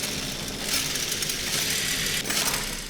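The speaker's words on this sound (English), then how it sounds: "Hold down Y to charge the flashlight" A hand-cranked dynamo flashlight charges in Amnesia: The Bunker, giving a continuous whirring, rattling drone that swells slightly partway through, loud and close with no speech.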